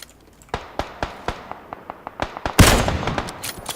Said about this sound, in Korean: 가까이서 누가 쏜다